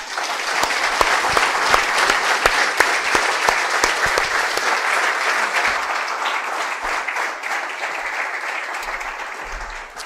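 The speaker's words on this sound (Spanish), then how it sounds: "Le damos un aplauso." Congregation applauding inside a church, a dense, steady wash of many hands clapping throughout, fading slightly toward the end.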